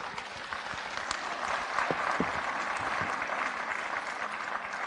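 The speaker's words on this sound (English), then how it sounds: "Could you please give them a round of applause?" An audience at a panel discussion on comprehensive sexuality education claps for the panelists: steady, moderately distant applause for about five seconds with a few sharper individual claps standing out.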